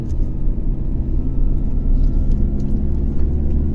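A pickup truck descending a mountain road in second gear in Salavan, Laos, its engine a steady low rumble with road noise, continuous and close throughout.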